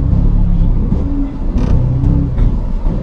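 A manual car idles and then pulls away in first gear in slow traffic, its low engine rumble rising steadily with a brief rev, loud and close throughout.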